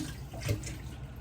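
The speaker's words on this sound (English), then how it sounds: "And then just fill it with, tap water." Tap water runs briefly into a container with a soft, rushing splash, close by.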